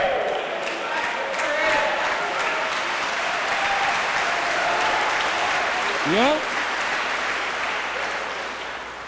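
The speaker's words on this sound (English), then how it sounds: "You don't have to applaud if you don't want to." Audience applause fills a large hall during a sermon-style lecture, steady and loud throughout, with a brief spoken interjection near the middle.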